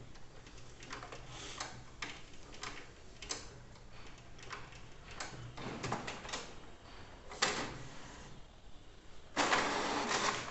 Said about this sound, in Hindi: तो जैसा आप देख सकते हो प्रिंटिंग शुरू हो चुका है।